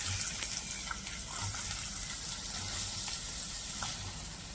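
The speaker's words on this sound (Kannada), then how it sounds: "ಎಣ್ಣೆ ಕಾದಿದೆ, ಈಗ ನಾನು ನೀರುಳ್ಳಿ ಹಾಕ್ತಾ ಇದ್ದೇನೆ" Onion hits hot coconut oil in a pan and sizzles and fries in a steady, dense crackle, close and continuous, with no voices.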